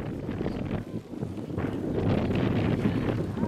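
Strong, gusty wind roars across a river during a women's college rowing bumps race, buffeting the microphone with a steady low rumble that swells toward the end.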